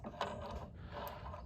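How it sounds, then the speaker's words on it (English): A socket wrench on a long extension with a universal joint works loose a 5/8 motor mount bolt on a Slant 6 engine, giving close metallic ratcheting and clicking with a couple of sharper clacks. "5/8 socket gets it out, and you can get to it pretty easy"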